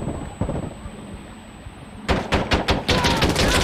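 Rapid bursts of MP7 gunfire in the video game Insurgency: Sandstorm crack out loudly, with scattered quieter shots first and then a dense string of sharp reports.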